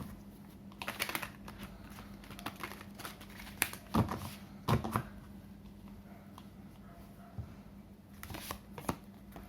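Tarot cards being shuffled by hand, a quiet papery riffling in several short bursts with crisp snaps between them, close up against a faint steady hum.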